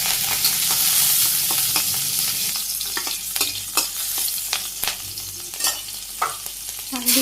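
Green chilies and cumin sizzle in hot oil in a Bangladeshi village kitchen, a steady frying hiss broken by sharp scraping stirs near the end.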